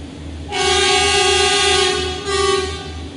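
A train passes close by, its horn sounding in a long loud blast that briefly drops and then returns over the rumble of the cars.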